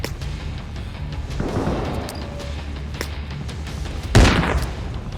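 In the video game ArmA Reforger, a frag grenade goes off with one loud, close, booming blast near the end, after some softer distant thuds and bangs from gunfire.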